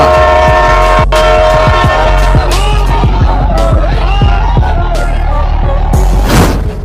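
A crowded train rumbles past with a steady loud mechanical roar, a sustained horn tone running through it and a brief rising burst near the end.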